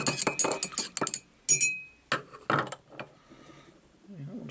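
Clinking and rattling of carbon-coated engine valves from a Reliant 850 trike being stirred in a container of acetone and automatic transmission fluid, in several short bursts with quieter gaps between.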